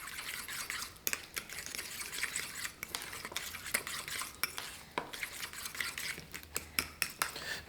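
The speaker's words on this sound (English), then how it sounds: "just mash all this avocado down, stir in your sour cream" Avocado is mashed and plant-based sour cream is stirred into it for a creamy dip: close, repeated utensil clicks and taps scrape against a bowl in an uneven rhythm, with no speech.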